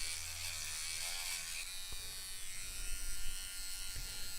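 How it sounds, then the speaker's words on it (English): A small power sander with new sandpaper grinding a nub off a Halloween build: a steady, close, high-pitched buzzing whir that roughens slightly as it bites, continuous throughout with no talking. "New sandpaper equals easy nub removal."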